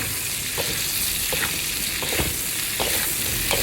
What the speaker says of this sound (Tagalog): Sa mantikang pinagprituhan ng laman, maggisa ng sibuyas, bawang, luya. Ilagay ang Chinese veggies.